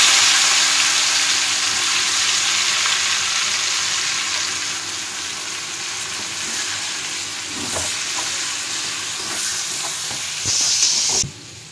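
Onions hit hot oil already seasoned with cardamom, dried chilli and bay leaf for a prawn dopiaza gravy, producing a loud, continuous hissing sizzle with occasional stirring scrapes that swell briefly just before it stops.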